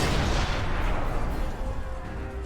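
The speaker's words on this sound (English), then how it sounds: "our guys just took over the cannons." Cannon fire from a Final Fantasy XIV dungeon battlefield rumbles as a dense, continuous wash of booming blasts, loud and close at first and slowly easing off, with no voices.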